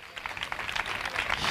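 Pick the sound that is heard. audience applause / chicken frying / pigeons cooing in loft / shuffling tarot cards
audience applause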